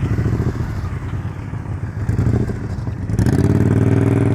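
A motorcycle engine held at low speed in the friction zone during slow-speed riding practice putters unevenly, then rises into a stronger, steadier rev near the end, close and fairly loud.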